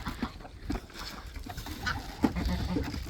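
Chickens and a white rooster at feeding time in a yard of birds: busy, overlapping clucks and calls, close and moderately loud, forming a steady barnyard chatter.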